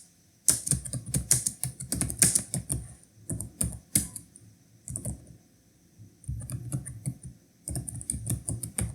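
Rapid typing on a computer keyboard: bursts of close, crisp key clicks with short pauses between them, a blog title being entered.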